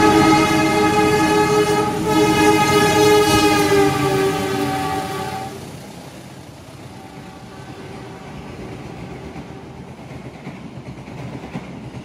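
A loud train horn blares for several seconds as an Indonesian passenger train passes close by on the Jakarta–Malang route, then fades to a steady rolling rumble.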